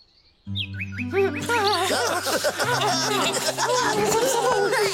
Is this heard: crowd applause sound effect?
no